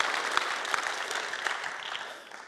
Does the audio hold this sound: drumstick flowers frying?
no